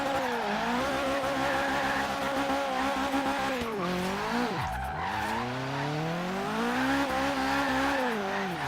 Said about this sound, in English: now we're spinning the tires in third